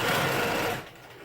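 Sewing machine stitching a lace zipper onto a fabric pencil case at a 5/8 inch seam, a close, steady motor whir with rapid needle patter that fades down after under a second.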